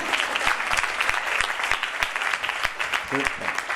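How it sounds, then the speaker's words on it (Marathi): Dense, energetic applause from an audience fills the whole stretch, with a brief voice surfacing near the end. "एकदा मधलं जे हसणं होतं ते त्याच्यासाठी टाळ्या झाल्या"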